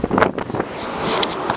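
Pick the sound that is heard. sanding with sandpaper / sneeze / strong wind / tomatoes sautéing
strong wind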